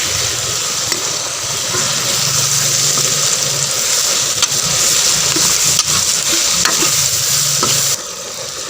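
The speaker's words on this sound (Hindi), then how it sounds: "अब इनको मिक्स कर देंगे।" Garam masala being stirred into a sizzling frying pan for a beef and turnip curry, with a continuous loud sizzle and scraping stirs throughout, and the sound dropping sharply near the end.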